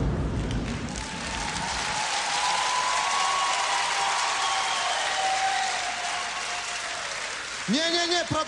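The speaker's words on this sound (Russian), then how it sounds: "не-не-не, продолжайте хлопать." Audience applause at a KVN comedy competition stage show, dense, sustained clapping filling the hall for several seconds, with voices talking near the end.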